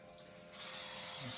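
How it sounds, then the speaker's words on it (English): A short burst of cooking oil spray hisses steadily from an aerosol can onto an air fryer grill, close by, after a brief quiet moment. "Spray that grill down."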